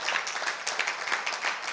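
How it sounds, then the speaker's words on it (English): An audience gives a guest a round of applause at an event, with dense, steady clapping throughout at moderate level. "I think he deserves a round of applause"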